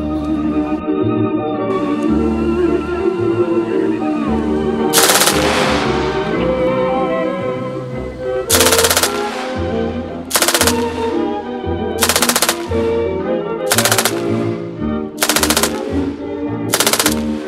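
Bursts of gunfire from captured Russian weapons at a German Army weapons demonstration, loud repeated volleys roughly every one to two seconds, layered over a steady musical or background bed.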